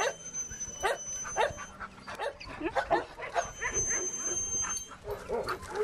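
Steady run of high, thin puppy whimpers and short yips, repeated rapidly over a noisy background with a faint electronic tone.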